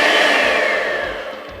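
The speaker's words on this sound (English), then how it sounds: "So I'm going to go in with my hand mixer and do this" A hand mixer whirs steadily through plantain cake batter while creaming it, a continuous motor drone with a slowly sliding pitch, fairly loud and close, with no talk.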